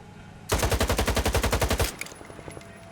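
AK-74 rifle on full auto in S.T.A.L.K.E.R. 2, a single loud burst of about fifteen evenly spaced rapid shots lasting over a second, then a short ringing tail and faint clicks.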